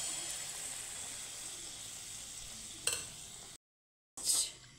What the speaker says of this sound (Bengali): তো লাল লাল করে ভেজে নিচ্ছি